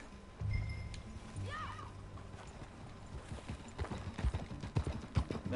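Rhythmic hoofbeats of a horse clip-clopping and picking up pace in the video game Red Dead Redemption, with a brief whinny early on, over a steady background hum.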